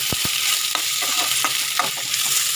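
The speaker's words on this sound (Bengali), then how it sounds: "পেঁয়াজ ভাজাটা জিরে সব দিয়ে একসাথে একটু নেড়ে দেবো" Fried onions and cumin stirred in a hot wok, a constant close sizzle broken by a few sharp spatula scrapes and taps, with no voices.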